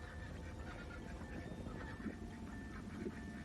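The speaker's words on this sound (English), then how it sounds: "Duck noises." Ducks quack faintly in short repeated bursts, quiet and distant under a steady tonal background that sounds like music.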